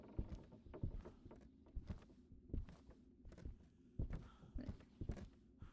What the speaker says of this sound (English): I heard something, like, sound like footsteps